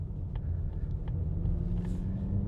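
A 2025 Mazda CX-50 Turbo rounds a corner at about 25 mph, heard from inside the cabin as a steady low engine and road rumble with light ticks on top, with no one talking.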